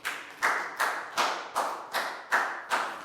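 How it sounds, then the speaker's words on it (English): A primary school class gives a round of applause in a health lesson, heard as a regular run of about eight evenly spaced claps, moderately close and unaccompanied by talk. "Big round of applause for Down."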